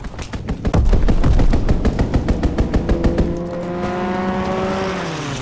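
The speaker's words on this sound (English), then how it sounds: "Fighter pilot inbound, strafing the target." A fighter plane strafes in Call of Duty: WWII, loud rapid cannon or machine-gun fire hammering in a steady rhythm that slows and fades as a droning engine tone passes and trails off.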